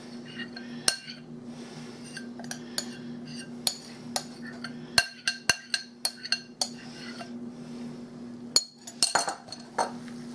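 Stuffing mix softened in liquid is worked into a meatloaf mixture, giving a series of sharp clinks and taps of a utensil against a bowl over a low steady kitchen hum, with no talk.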